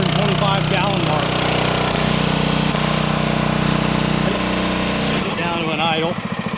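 Small pump engine running near and loud after filling a 300-gallon water tank, dropping to a lower idle partway through, with a voice talking over it at the end.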